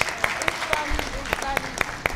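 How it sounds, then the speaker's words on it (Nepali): Audience on a Nepali singing talent show clapping in a steady rhythmic beat, sharp evenly spaced claps over a bed of crowd applause, with a host's voice speaking over it. "यस्तो मनमोहक गीत गाइरहेको ठाउँमा हामी सबैले एक ताली जोरदार ताली,"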